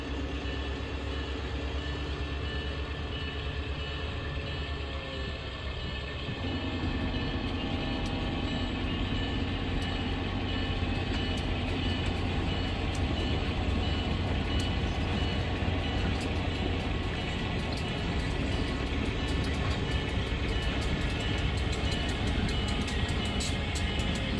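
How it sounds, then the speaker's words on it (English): Continuous rumbling of a model train slowly backing a short string of cars in a classification yard, steady and sustained with a low drone, with no speech. "Looks like he's backing up a string of cars in the classification yard."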